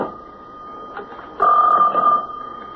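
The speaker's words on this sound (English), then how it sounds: "that's a special phone." Old-style telephone bell ringing in a 1970s CBS Radio Mystery Theater drama, a short steady electric ring swelling louder partway through, close and alone without voices.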